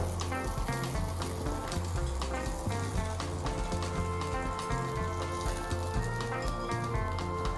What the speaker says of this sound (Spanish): Estamos sellando, caramelizando.